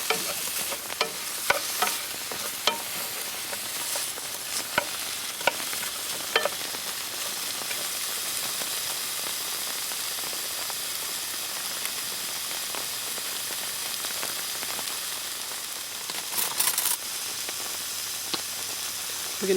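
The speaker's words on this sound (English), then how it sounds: "We want to sear the meat on all the outside" Cubed beef searing in a pan for stew, hissing and sizzling steadily throughout, with scattered crackles and pops and occasional stirring scrapes, fairly close and moderately quiet.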